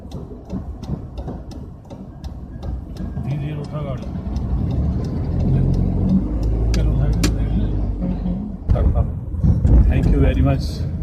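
Tata Nano car pulling away slowly during a practice drive with a trainee, a low engine rumble that builds steadily and stays close, with people talking over it throughout.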